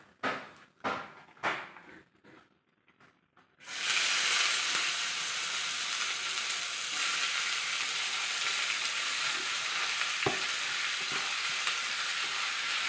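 Washed cabbage goes into a pan of hot oil with curry leaves: a few clatters of stirring, then a sudden loud, steady hiss of frying that stays close and continuous to the end.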